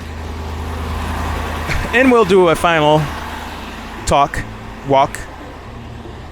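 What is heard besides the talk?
Ford F150 diesel truck engine running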